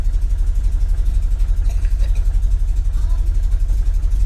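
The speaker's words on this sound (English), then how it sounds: "Back to idling again." A 1973 VW Super Beetle air-cooled engine fitted with a Dellorto FRD 34B carburetor idles steadily near 800 rpm, a close, continuous low throbbing putter that stays loud and even throughout.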